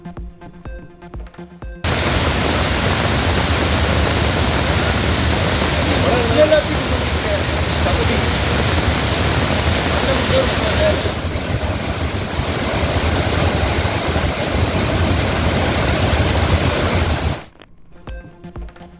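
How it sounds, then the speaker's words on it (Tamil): The Courtallam waterfalls in the Western Ghats of Tenkasi district, flooded after heavy rain, roar loudly and continuously at close range, then cut off abruptly. "தென்காசி மாவட்டம் மேற்கு தொடர்ச்சி மலைப்பகுதிகளில் பெய்த மழை காரணமாக குற்றால அருவிகளில் வெள்ளப்பெருக்கு"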